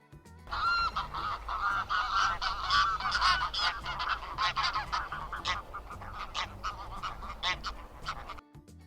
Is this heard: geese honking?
yes